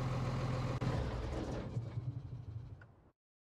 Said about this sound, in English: I'll let you hear those sounds on the engine.